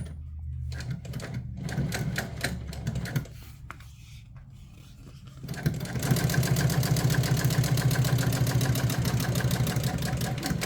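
A sewing machine runs sewing a French stitch, starting with intermittent stitching bursts and low motor hum, then settling into a loud, fast, continuous rhythmic needle clatter up close.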